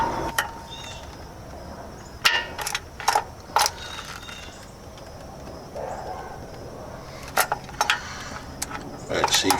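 A wrench works on the oil filter under a Chevrolet Suburban, a GMT-800 truck. A few sharp metallic clicks and clanks come in short bursts with pauses between, close by, over faint low background noise.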